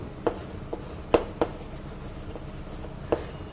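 Marker or chalk strokes on a classroom board during a lecture, a handful of short, sharp scratches and taps spaced irregularly over a quiet room tone.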